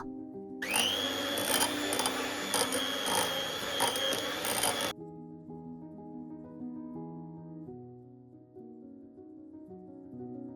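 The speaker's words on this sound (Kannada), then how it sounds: "ಈಗ ಈ ಬಟರ್ನ ನಾವು ನೀಟಾಗಿ ವಿಸ್ಕ್ ಮಾಡ್ಕೋಬೇಕು." An electric whisk or hand mixer beats room-temperature butter for a rum plum cake, a loud steady whirring motor for about four seconds that then cuts off, leaving quieter kitchen sounds.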